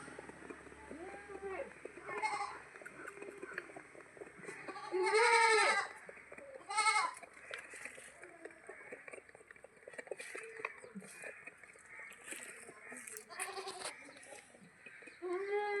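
Goats on a farm, a milking mother goat with her young kids, bleat again and again, with loud close calls around five and seven seconds and quieter cries scattered throughout, set against a busy outdoor background.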